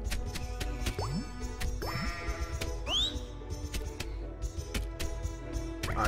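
Sheep in the video game Fluffy Doki Sunshine bleat several times in short rising calls, close and clear over busy game sounds and rapid clicking effects.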